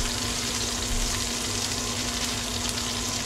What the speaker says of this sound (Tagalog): Pag galing sa ref, ang sibuyas, ginisa mo, nagtatalsikan sila.